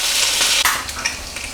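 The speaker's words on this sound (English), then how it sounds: "I'm now going to leave the bacon for another 3 or 4 minutes and then we'll start to fry everything else" Bacon sizzling in a frying pan for a full English breakfast, a continuous close crackling hiss with a few sharper pops and spatters, no voices.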